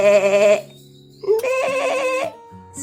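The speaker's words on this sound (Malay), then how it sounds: "Kalau kambing bunyi dia kuat sikit." A goat gives two loud, wavering bleats close by, separated by a short pause, with a faint low tone at the end.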